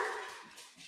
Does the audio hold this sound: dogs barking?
yes